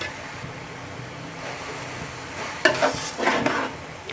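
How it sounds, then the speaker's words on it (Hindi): Grated carrot halwa roasts in ghee with a soft sizzle while a spoon stirs and scrapes the pan, growing louder in a few brisk scraping strokes near the end, with no one talking. "इनको अच्छी तरह से मिक्स करेंगे और साथ साथ हलवे की बुनाई करेंगे जब तक घी हमारा जो है ना वो बाहर नहीं निकल आता"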